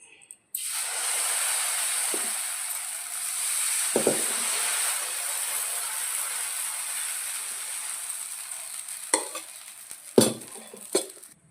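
Dosa batter spread over a hot, seasoned cast iron flat tava sizzles with a steady hiss that starts abruptly, with a few clinks and scrapes of a utensil along the way.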